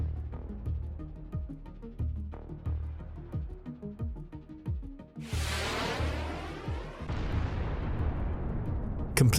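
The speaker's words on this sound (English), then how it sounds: "the Ukrainian military waited for the best moment and fired a precise shot from a javelin" A Javelin missile strikes a Russian combat vehicle. A series of heavy rhythmic booms and thuds rolls in first, then a loud blast with a long, rumbling roar sustains to the end, with no talking.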